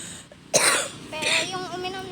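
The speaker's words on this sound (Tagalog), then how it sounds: "Ako ubo-ubo lang pa." A single short cough from a person with a cold, close and fairly loud, followed by brief voiced sounds.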